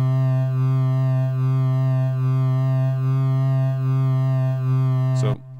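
A steady, loud synth tone from a 1010music Blackbox holds with a faint, slow LFO pitch wobble running through it, ending in a brief glitchy cutoff.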